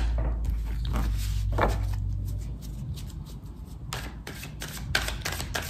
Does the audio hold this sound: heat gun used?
no